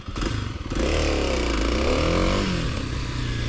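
A 2024 Kawasaki KLX 300SM single-cylinder motorcycle revs and accelerates on a test ride, a loud close engine note rising and falling in pitch with no talking.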